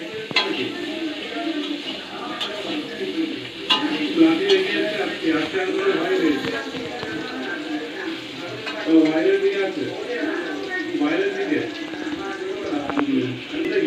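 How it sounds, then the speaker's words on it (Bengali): Potatoes stir and fry in oil in a wok, a steady close sizzle under repeated scrapes and clinks of a utensil against the pan, with faint voices in the background. "কড়াতে তেল দেওয়া হচ্ছে। আলু নাড়া হচ্ছে তেল দিয়ে।"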